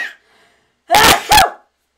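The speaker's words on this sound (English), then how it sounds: "I'm going to sneeze, guys." A person sneezes twice in quick succession, loud and close, each burst sharp and explosive, after a faint brief breath and a short silence.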